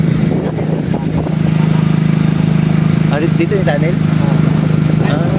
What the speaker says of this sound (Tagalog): Kaya ba, daming motor, oh.